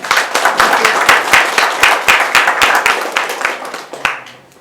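Loud, close applause from an audience paying tribute to a late astrology researcher, sharp individual claps in a quick uneven rhythm lasting about four seconds before fading out.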